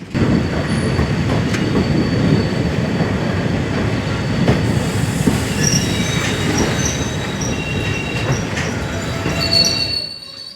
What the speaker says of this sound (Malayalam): ട്രാക്കിലെ വളവ് തിരിവുകളും കയറ്റിറക്കങ്ങളും എത്ര ബുദ്ധിമുട്ടാണ് ട്രെയിൻ തരണം ചെയ്യുന്നത് എന്ന് അല്പസമയം ട്രാക്ക് ശബ്ദം ശ്രദ്ധിച്ചാൽ മനസ്സിലാവും